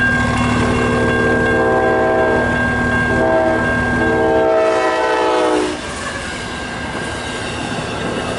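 Eastbound Amtrak passenger train speeding through Kimball Township, Michigan, its horn sounding loudly in long blasts over heavy rail rumble, then the horn stops and the rushing roar of passing cars continues.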